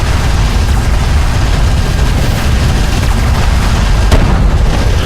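A strike craft blows up in the Homeworld: Deserts of Kharak video game, a loud, dense, rumbling blast that stays heavy throughout, with no voices.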